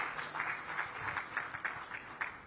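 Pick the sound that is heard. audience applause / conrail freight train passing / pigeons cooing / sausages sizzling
audience applause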